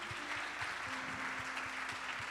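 Faint applause from a church congregation, a soft continuous patter of clapping with a low rhythmic thump beating underneath and a sustained tone in the background.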